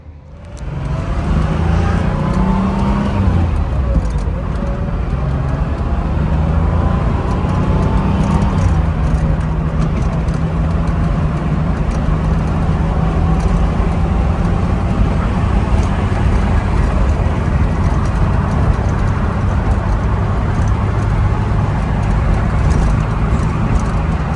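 A running Porsche engine holds a steady, loud rumble throughout, with low harmonic tones shifting slightly as it idles and revs, close to the listener with no talk.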